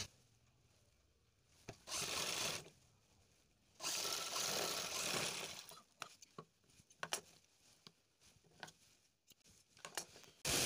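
A foot-pedal sewing machine stitches bra cups in two sustained bursts of rapid mechanical whirring, followed by scattered clicks and handling taps.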